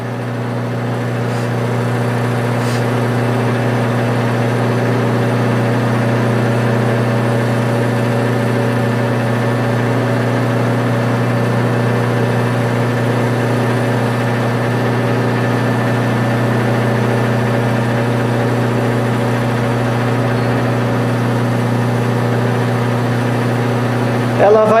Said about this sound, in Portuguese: Ela vai começar a fazer o acionamento da máquina para entrar na fase de teste.